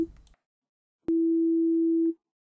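An initialized FM synthesizer patch sounding one steady, plain sine-like tone that holds at even volume for about a second before cutting off, after a short earlier note and a click, with no voices.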